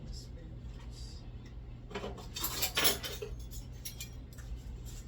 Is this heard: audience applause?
no